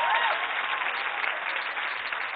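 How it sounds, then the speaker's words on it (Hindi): Dense, sustained applause from a seated audience at a Hindi poetry recital (kavi sammelan) at a 2017 literature festival, steady and close throughout with no break. "एक बार जोरदार तालियां"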